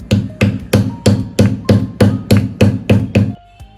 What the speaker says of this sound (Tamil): அதனால் இந்த மாதிரி பூண்டி இடிக்கிறதுல வச்சு நீங்கள் இடிச்சுக்கலாம்.